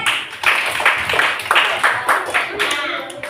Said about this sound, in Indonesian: Tepuk tangan dulu untuk anak-anak ibu.